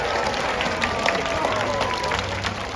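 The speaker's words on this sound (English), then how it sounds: "let's give her a round of applause for that" A crowd at a seal show at Como Harbor gives steady, dense applause mixed with cheering, loud and continuous throughout, with some voices underneath.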